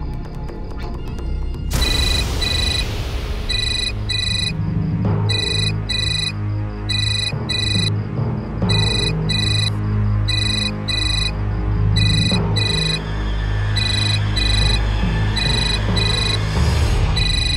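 A phone ringtone chimes in a repeating electronic pattern for a long stretch, loud and close, with background noise underneath.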